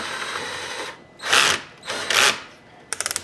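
Two short bursts of a battery drill mounted on a cutter arbor, cutting a 1911 pistol barrel seat, whir up and stop, followed by a quick series of sharp clicking ratchets, close by in a quiet workspace.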